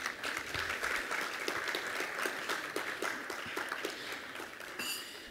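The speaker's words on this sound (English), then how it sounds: "Please let's give Mrs. Edgecombe another round of applause." An audience applauds Mrs. Edgecombe at an evening event, sparse and steady claps running for about five seconds at moderate distance, with a faint ringing tone near the end.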